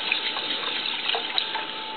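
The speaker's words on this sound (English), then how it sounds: "And we'll put in enough water" Water poured from a tap into raw long grain jasmine rice in a pot for cooking, a steady close gush running without a break for about two seconds, with no talking.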